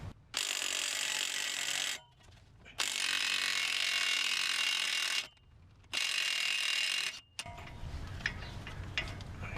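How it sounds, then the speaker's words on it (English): Electric impact wrench loosening a 32mm axle nut on a Chevrolet Volt hub, three long loud bursts of rapid hammering rattle separated by brief pauses, close up, followed by quieter clinks of the nut and tools. "I'm going to use an electric impact, which I highly recommend if you're going to do this kind of work."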